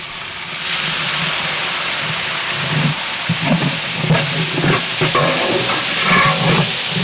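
Yogurt hits hot vegetable biryani masala with mint and coriander in the pot, a loud, steady hissing sizzle with steam, and stirring scrapes join in toward the end, close and continuous, with no voices.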